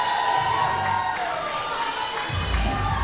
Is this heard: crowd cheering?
yes